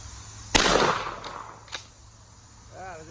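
A Winchester Model 42 .410 takedown pump shotgun is slam fired outdoors with one sharp, loud report that fades quickly, then a fainter knock. A brief voice is heard at the end.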